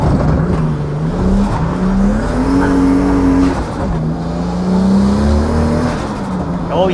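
A JDM family car driven for drifting and rallying roars close by, its engine note rising and falling through revs in a loud continuous drone with mechanical noise, while someone talks over it.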